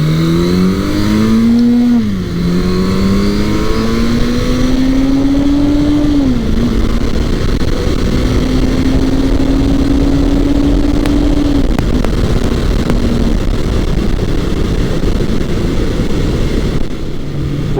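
A Suzuki GS650G classic 650 motorcycle is ridden at speed, its engine droning loud and close as revs climb, dip at a shift, then climb again to a steady cruising hum with wind noise, no talk.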